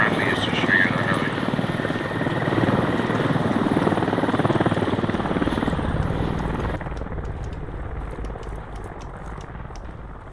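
Helicopter in the video game Squad, a loud continuous rotor thrum and engine drone that stays strong for several seconds, then drops to a lower, steadier level.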